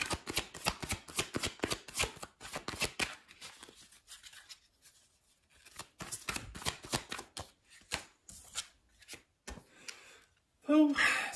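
Tarot cards are shuffled and drawn by hand, a rapid run of crisp riffling flicks up close, then a pause and more scattered card snaps and slides, with a brief voice at the end.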